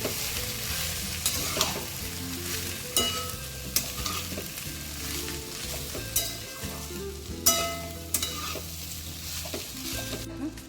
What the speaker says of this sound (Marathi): तर हा छानपैकी असं मिक्स करून घ्यायचा हा संपूर्ण आणि संपूर्ण असं छानपैकी हलवून घ्यायचा हा पूर्ण